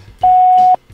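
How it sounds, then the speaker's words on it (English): A single steady electronic voicemail beep, loud and clean, lasting about half a second right after a recorded French greeting, with faint background noise before and after. "Lorsque tu entends le beep,"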